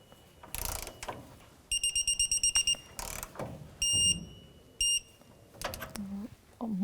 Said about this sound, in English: now we're going to torque the lower castle nut on the lower ball joint